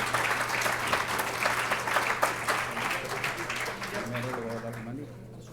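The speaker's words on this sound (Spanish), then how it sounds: "Un aplauso," Audience applause at an award presentation where a recognition plaque is handed to a doctor, a steady wash of clapping over a low hum, with a voice talking faintly beneath it toward the end as the applause thins.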